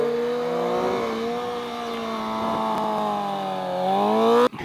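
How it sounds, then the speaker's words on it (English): An engine revs high and steady while a rider pulls wheelies, the pitch rising and falling slightly before a sharp cutoff at the end, loud and close with no talk. "He's out here killing it with them wheelies."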